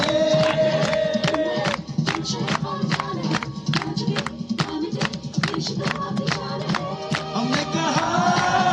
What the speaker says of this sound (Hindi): तो ये तालियों की जो गूंज है